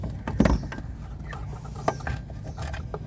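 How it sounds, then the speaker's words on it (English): A reverse light socket is twisted counterclockwise out of the rear bumper of a Kia Sportage, giving close, faint plastic clicks and scraping with a sharper snap early on and a few more ticks later. "Turn the round housing counterclockwise until it loosens."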